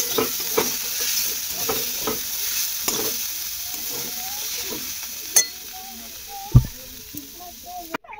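Leafy greens (shak) fry in a pan with a continuous moderate sizzle and hiss, broken by stirring scrapes and a few sharp utensil knocks near the end. No voices are heard.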